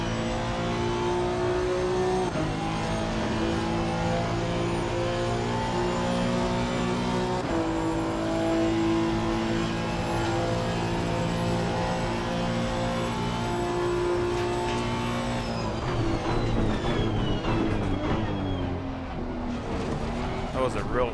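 Honda NSX EVO GT3 race car lapping Monza in Assetto Corsa Competizione, its engine droning steadily at high revs with clear gear shifts and pitch changes through the lap, loud and continuous throughout.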